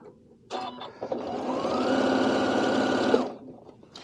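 A Janome sewing machine with a drop-in bobbin stitches steadily for about three seconds, a close, even mechanical whir with rapid needle ticking that starts abruptly and winds down.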